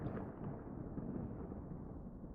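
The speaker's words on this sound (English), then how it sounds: "The distant sounds of thunder and lightning crack across the sky" Distant thunder rolls low and continuous across a stormy sky, a deep rumble sustained throughout with no voices.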